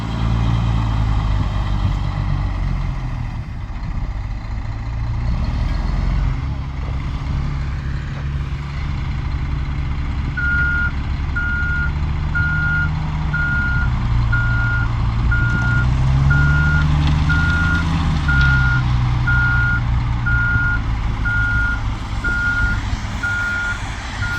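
A concrete mixer truck's reversing alarm beeps in a steady, evenly spaced series over a loud, rumbling idling engine, close by.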